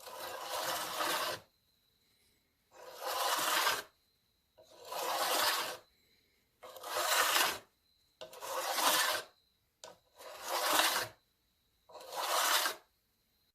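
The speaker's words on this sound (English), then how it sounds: "I like to use these sharpening stones. It's 400 on one side and 1200 grit on the other. And you just level them." A two-sided 400/1200-grit sharpening stone levels the frets on a handmade custom guitar. Seven steady rasping strokes run in an even rhythm with short pauses between them, close and clear, with no talk.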